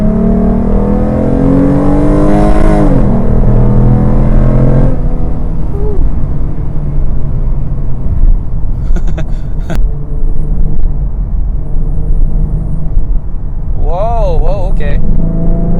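Engine of a tuned 2014 Ford Mustang V6 pulling hard in second gear, a steady rumbling drone that rises in pitch inside the cabin, with a person talking over it and brief clicks near the end.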